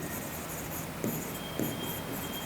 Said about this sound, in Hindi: आप इसको डायरेक्ट लिखेंगे, ऐसे लिखोगे